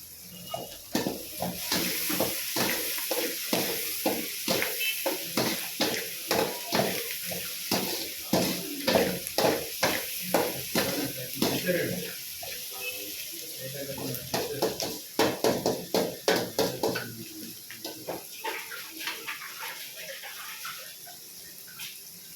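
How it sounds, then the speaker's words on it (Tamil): Onions sautéing and being stirred in a pan with salt added, giving a steady sizzle broken by repeated scraping strokes, fading toward the end. "வெங்காயம் நல்லா வதங்கி கலர் மாற்று பாருங்கள் காய்ஸ்"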